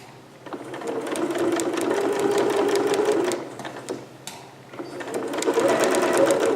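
A sewing machine stitches a garment sleeve close by, running in steady bursts of rapid mechanical chatter with a short pause in the middle, and no talk over it.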